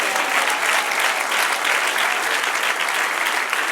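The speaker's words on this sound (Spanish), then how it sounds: "Dale otro aplauso al que reina." Church congregation applauding steadily and loudly throughout, a dense, continuous wash of clapping with no pauses, heard close and filling the space.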